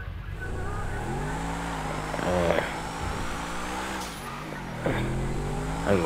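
A Truffade Adder supercar on a test drive in GTA Online, its engine note rising and falling steadily through gear changes and revs, close and continuous with no talk.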